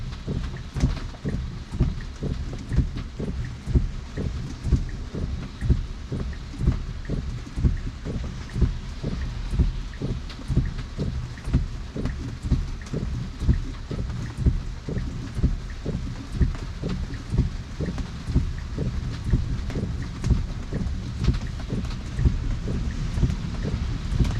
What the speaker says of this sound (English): I guess this rain is going to be around for a while